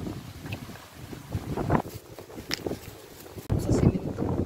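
Gusty wind roars and buffets the microphone, rising and falling, with a louder rush near the end.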